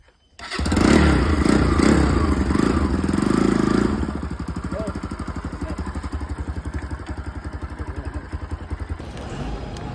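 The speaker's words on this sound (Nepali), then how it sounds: "अहिले पोखरासम्म चाहिँ म आफ्नै पर्सनल बाइकमा जाँदैछु" A personal motorbike on a ride to Pokhara, Nepal: a loud thump and engine burst at the start, then a steady, close, pulsing engine idle or low cruise that continues to the end.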